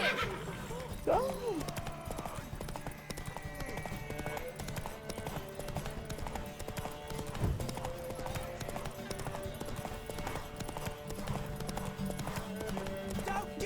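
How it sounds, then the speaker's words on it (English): A horse gallops in a race in The Witcher 3: Wild Hunt, with rapid continuous hoofbeat clip-clops and a brief whinny near the start, over game music and effects. "The horse's stamina in a race goes down much faster than it does when you're just out riding."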